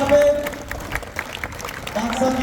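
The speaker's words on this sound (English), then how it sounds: "Let's have a huge round of applause." An audience at a sports prize ceremony claps, the applause rising and falling in bursts while a voice carries over it.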